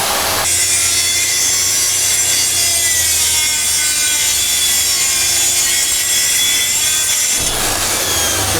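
A track saw rips through a sheet of plywood in one continuous, loud, high-pitched cut lasting several seconds, with the motor's whine dropping away sharply at the end.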